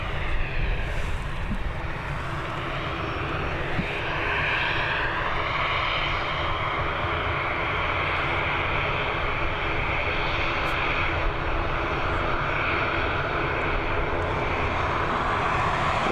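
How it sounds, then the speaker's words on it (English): An ATR turboprop takes off at an airport, a steady droning engine roar heard from a distance, sustained throughout with no talking. "There we go, the ATR up and away."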